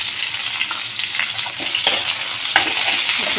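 Onions with a little salt crackle loudly in a frying pan, a constant close sizzle with occasional sharper pops and scraping stirs, no speech.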